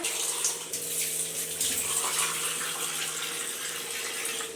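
Continuous splashing water pours steadily into a pan of chicken gojju, a broad hissing gush that lasts the whole time with slight surges.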